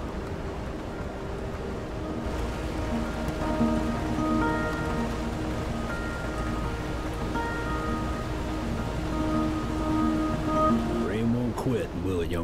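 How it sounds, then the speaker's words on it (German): Steady rain falls and patters on surfaces throughout in the video game Road 96, with a low mechanical hum and music-like tones underneath, fairly quiet and continuous. "Der Regen will nicht aufhören"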